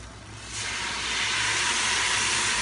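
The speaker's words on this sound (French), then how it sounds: "Et maintenant, je vais les déglacer avec le vin blanc." A sudden loud sizzling hiss rises as white wine hits a hot pan to deglaze it, then holds as a steady, bubbling steam sound up close.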